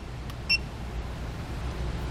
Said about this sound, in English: hold down set until it beeps. It's going to beep like that.